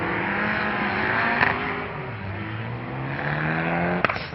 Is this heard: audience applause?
no